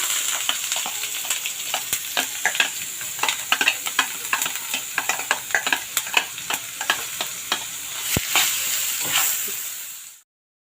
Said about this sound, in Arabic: وبكده هنعصج اللحمة المفرومة